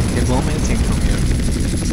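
A helicopter in GTA San Andreas drones loudly and steadily, its rotor and engine roar filling the low end without a break, with no voices over it.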